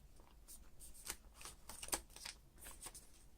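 Origami paper being folded into a walrus, with soft close crinkles and a few sharper rustles and creases at an irregular pace, faint and alone.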